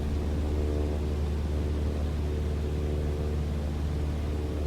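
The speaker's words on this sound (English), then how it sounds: "I think you're better off just listening for a change in the pitch of the engine." Aircraft engine in Microsoft Flight Simulator, a steady low droning hum with a constant broadband rumble throughout, held at an even loudness with no talk.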